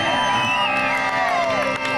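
A live crowd at a Tamil stage show roars with sustained cheering, whoops and rising whistles, a loud, continuous wall of voices from many people with no single speaker standing out.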